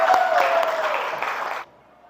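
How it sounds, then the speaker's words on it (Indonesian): Brief burst of classroom applause from students, dense clapping mixed with a sustained voice, lasting about a second and a half before cutting off abruptly into near silence. "Tepuk tangan buat kelas ini dulu."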